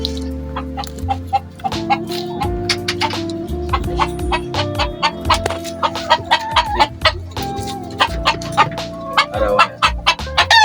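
A flock of chickens clucks busily at morning feeding time, with dense overlapping calls and a rooster crowing among them, heard close by, while a person speaks briefly.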